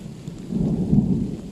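Low, rumbling thunder rolls through a steady patter of rain in a storm over an abandoned village in a forest, building and swelling toward the middle before easing slightly, with no voices.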